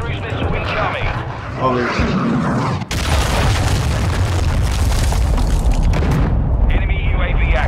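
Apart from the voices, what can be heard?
cruise missile explosions in Call of Duty Modern Warfare II video game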